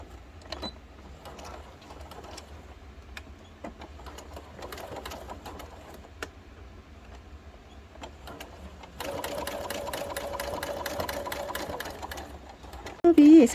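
A sewing machine stitches a pocket on a pair of shorts in one loud, even run of rapid needle strokes lasting a few seconds. Someone speaks softly before it starts.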